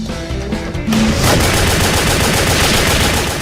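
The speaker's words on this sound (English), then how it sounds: "you know, they're machine guns. They do exactly what you'd expect." Sustained machine gun fire in the video game WET, loud and dense, a continuous rapid burst that starts abruptly and runs almost unbroken to the end, with no talking over it.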